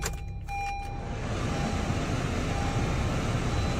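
A 2020 Honda CR-V engine starts and settles into a steady idle, heard close as a continuous low rumble following brief clicks and a whirr at the start.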